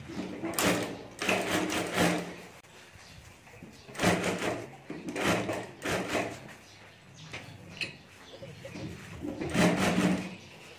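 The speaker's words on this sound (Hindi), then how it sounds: "तो यहाँ से मैं सिलाई करके दोनों पार्ट जोड़ देता हूँ।" A sewing machine joins two parts of a potali bag in several short bursts of stitching separated by pauses, with handling noises between runs.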